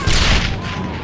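Booming gunfire and explosions from the World War II shooter game Brothers in Arms: Hell's Highway, a loud close burst that rolls off into a rumbling decay.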